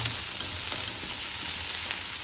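Onions fry in a pan for chicken hariyali, cooked until they darken to a reddish color, with a constant close-up hiss and sizzle of hot oil and no talking.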